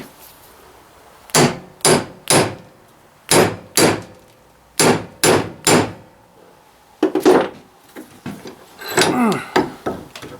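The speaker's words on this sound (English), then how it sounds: "I'm going to have to try to hammer her back down a little bit" A hammer strikes old metal equipment to knock a tight clip back down, landing about eight hard, close blows in small bursts of two or three, followed by rattling and scraping of metal.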